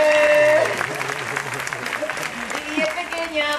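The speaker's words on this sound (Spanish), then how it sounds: "Venga, aplauso, Lolita" An audience bursts into applause at a street gathering in Spain, the clapping loud at first and then fading, with someone speaking over it.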